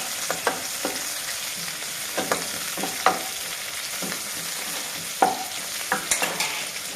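Shallots, ginger and curry leaves sauté in a pan with a steady soft sizzle, broken by repeated scraping stirs of a spoon at an uneven rhythm, close and fairly quiet.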